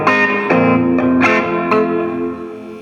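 Guitar chords played through a Fender Mustang II amp on its British 60s setting, with crunchy, driven strums every half second or so that sustain and decay, loud and up close.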